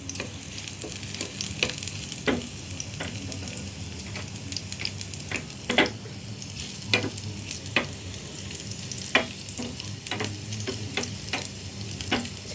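Garlic frying in a pan for chicken liver adobo makes a continuous crackling sizzle, with scattered sharp pops and clicks of stirring over it, and no voices.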